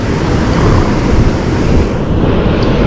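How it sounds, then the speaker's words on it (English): Big ocean waves crash and surge in a loud, unbroken roar near a boat at sea, with wind buffeting the microphone throughout and no talk. "these waves are big today"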